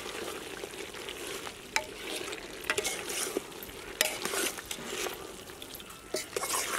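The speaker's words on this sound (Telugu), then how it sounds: "టమాటా ముక్కలు, కొత్తిమీర, పుదీనాకు, మొత్తాన్ని వేసినాక ఇలా కలిపేసుకోవాలి" Tomato, coriander and mint are stirred into a chicken biryani masala. A spoon scrapes the pot in a run of irregular clicks over a soft, low sizzle, with no talk.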